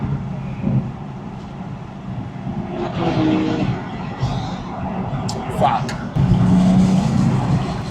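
A loud BMW at a car meet drives past with a rising engine roar that swells toward the end, while people talk nearby throughout.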